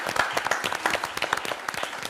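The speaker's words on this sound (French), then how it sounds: "Allez, on l'applaudit." An audience at an image-consulting makeover presentation gives a short round of lively clapping, with individual claps distinct and close.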